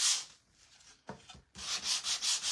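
Hand sanding with 120 grit sandpaper on a craft piece, rhythmic rubbing strokes in two bursts separated by a short pause, close but fairly quiet.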